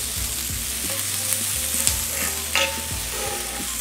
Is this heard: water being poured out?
no